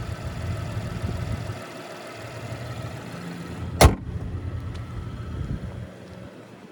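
A 2024 Cadillac CT5 Premium Luxury with a 3.0-liter twin-turbo V6 running at a steady low idle, heard up close with light wind buffeting and one brief sharp click partway through.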